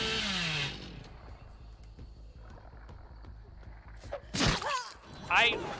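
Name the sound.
chainsaw revving, Billy in the video game Dead by Daylight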